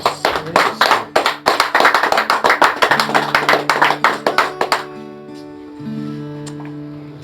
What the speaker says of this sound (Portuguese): Pode dar um aplauso ao Senhor Jesus.